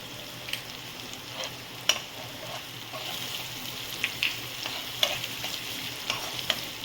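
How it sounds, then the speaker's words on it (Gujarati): A spoon stirring spices, salt and capsicum in a hot pan for mamra chatpati, with soft sizzling under repeated light scrapes and clinks against the pan, close and fairly quiet. "હવે બધું મિક્સ કરી લઉં છું।"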